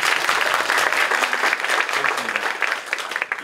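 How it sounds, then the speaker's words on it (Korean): An audience at a regional education town-hall event breaks into steady, close applause, a bright wash of many hands clapping continuously with a faint murmur underneath. "박수로 시작합니다."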